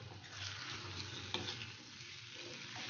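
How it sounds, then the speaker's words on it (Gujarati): Boiled potatoes being mixed with garlic chutney in a pan for Gujarati bhungla batata give a faint, steady sizzle and soft stirring scrape. One small clack sounds midway, and no voices are heard. "હવે એમાં આપણે આ બાફેલા બટેટા છે એ એડ કરશું અને સારી રીતે મિક્સ કરી લેશું"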